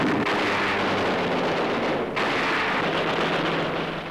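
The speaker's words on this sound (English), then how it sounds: "An anti-aircraft tower is blasted." Wartime blasts strike an anti-aircraft tower during a 1944 Philippines raid, a dense continuous roar of explosions with a sharp renewed burst near the middle, rough old newsreel sound without speech.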